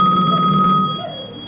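A telephone bell trills loudly in a stage play scene at night, ringing steadily for most of a second before cutting off, leaving a quieter room tone.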